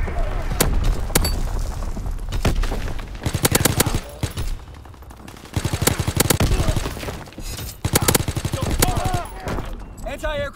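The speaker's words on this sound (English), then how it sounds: "Sending mortar rounds." Mortar rounds and gunfire in the World War II shooter Call of Duty: WWII, with loud repeated blasts and rapid bursts of fire sounding close and continuous throughout.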